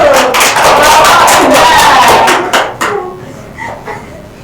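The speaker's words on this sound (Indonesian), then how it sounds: "Iya, betul, tepuk tangan dulu." A classroom of students bursts into applause, dense and loud, with individual claps and some voices in the mix, then thinning to a few scattered claps and fading out.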